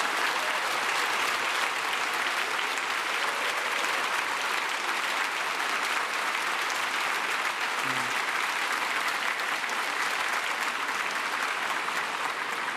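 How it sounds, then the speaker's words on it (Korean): Church congregation at a Christmas service claps at length to welcome a guest, broad sustained applause from a large crowd filling the hall, steady and unbroken throughout. "네 분이 가족 박수로 우리 환영하겠습니다."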